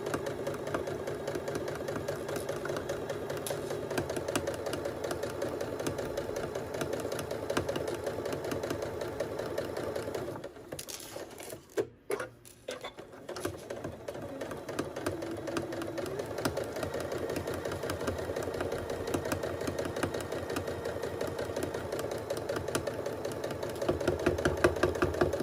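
A sewing machine stitches stuffed fabric letters with a steady, continuous mechanical whir, briefly pausing midway before running on evenly at close range.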